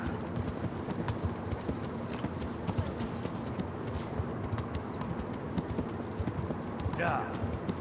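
A horse's hooves clip-clop steadily on the ground in the video game Kingdom Come: Deliverance, continuous and fairly close, with a brief whinny near the end and voices talking over it.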